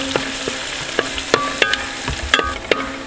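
Finely chopped green chili and garlic frying in oil in a pan, a loud steady sizzle broken by repeated sharp spatula taps and scrapes about every half second, with no talk.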